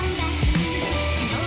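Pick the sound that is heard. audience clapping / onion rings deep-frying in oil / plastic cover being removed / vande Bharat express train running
onion rings deep-frying in oil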